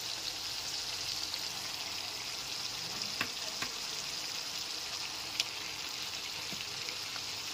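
Marinated mutton pieces frying in spiced oil for a Bengali mutton kosha, a steady soft sizzle with a few faint clinks, moderately quiet and continuous.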